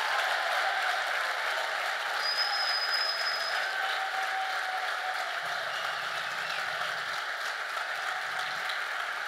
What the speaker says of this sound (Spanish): Dale, dale el mejor aplauso al Señor.